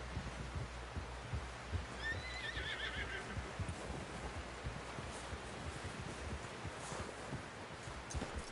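A horse in Red Dead Redemption 2 whinnies once, a short wavering neigh over a dense bed of ambient game noise and low rumble, with faint hoof sounds mixed in.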